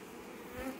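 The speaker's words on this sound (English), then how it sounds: "that bee's really not loving me today" A honeybee buzzes close to a beekeeper in a bee yard, a faint short drone that briefly swells as it passes nearby.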